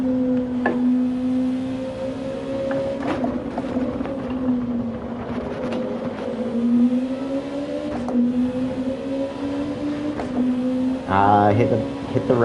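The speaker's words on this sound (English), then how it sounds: "Hit the rev limiter slightly then." A race car engine in a racing video game holds a steady droning pitch that rises and falls slightly. Near the end it bounces off the rev limiter in a brief stuttering burst.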